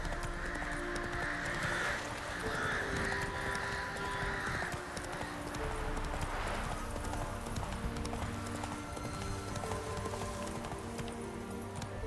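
Geralt's horse Roach gallops in Witcher 3, a rapid steady clip-clop of hooves over game music and ambience, with a brief whinny-like tone near the start.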